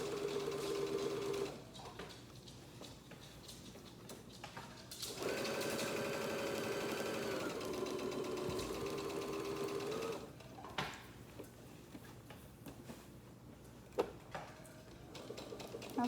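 Sewing machine slowly back stitching a fleece panel blanket, its needle chattering in bursts that start and stop, fairly close and alone apart from faint clicks between runs.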